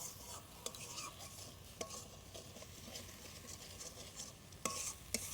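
Steady sizzling of fish frying in a pan with turmeric, with a few sharp scrapes and clinks of a utensil stirring against the metal.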